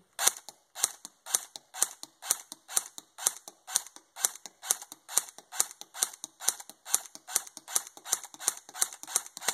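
A Lancer Tactical airsoft gun fires BBs on semi-auto, giving a long steady string of sharp, evenly spaced snapping shots at close range with no talking.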